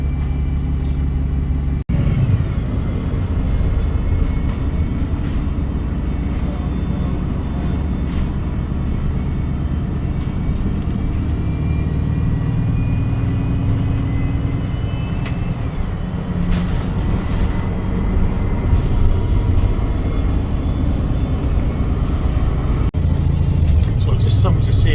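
Inside a moving Enviro 200 MMC autonomous diesel bus, the engine drones low and steady with road rumble and rattles throughout, while a voice talks over it.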